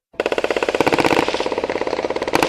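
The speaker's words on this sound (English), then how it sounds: "Unsuppressed gunshots like this rifle right here is extremely loud" A rapid, sustained burst of loud rifle gunfire, shots cracking in quick succession close by, then a brief pause before a few more shots.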